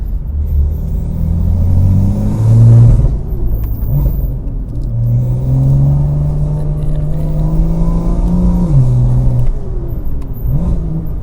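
A BMW F87 M2 with a DCT gearbox revs hard through paddle-shifted gear changes. The engine rises and falls loudly and close by, with brief dips at each shift and a steady rumble underneath. No one speaks.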